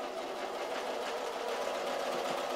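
A sewing machine stitches keyhole binding with a fast, even mechanical clatter, its needle strokes ticking rapidly and evenly throughout at close range.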